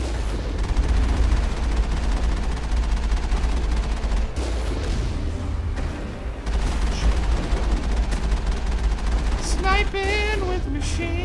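Sustained machine gun fire in the game Mass Effect, dense and continuous through the whole stretch at a steady loud level, with some electronic whistling tones near the end.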